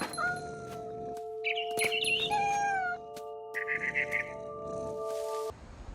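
A cat meows several times in the video game What Remains of Edith Finch, short rising and falling cries over a sustained tonal game soundscape, with a bird-like chirping passage in between.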